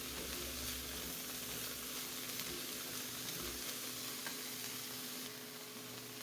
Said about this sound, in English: Just want to get a light saute on this before I add the liquid.